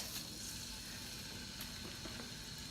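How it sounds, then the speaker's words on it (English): Soft, continuous sizzling of ginger in hot olive oil, faint and even, with a few tiny pops. "you could hear the sizzling. Sizzling starts here."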